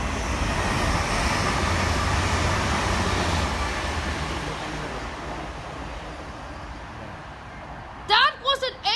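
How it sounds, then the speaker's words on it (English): An East Midlands Railway Class 810 passenger train rumbles past on the Midland Main Line at Mill Hill Broadway, a loud sustained roar that gradually fades, with a person speaking briefly at the end. "there's another train coming this way. It's East Midlands."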